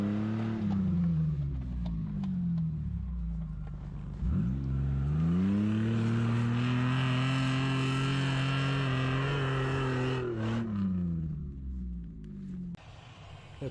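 A Mitsubishi Pajero engine strains and revs as the SUV climbs a slope of frozen sand, a loud droning roar rising and holding in pitch, briefly dipping, then easing off near the end; no voices.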